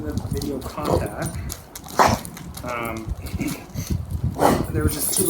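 Calvin, a senior dog, barks and growls in short, uneven bursts, fairly close, as small dogs are walked past; a person talks over parts of it.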